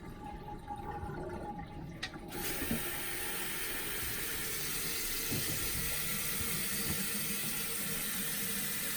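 Water runs steadily from a bathroom tap and trickles past a stopper that isn't fully closed, a constant close hiss and splash with a brief mechanical clunk near the start.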